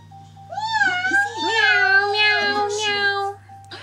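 A young girl imitates a cat, making long, wavering, high-pitched meowing noises with her voice, close and clear, almost continuous for several seconds, with faint background hum underneath.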